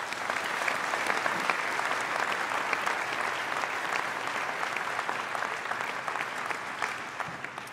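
Sustained, dense applause from a large audience at a Nottingham Business School graduation ceremony for the Class of 2020, a steady even roar of clapping throughout with no voices.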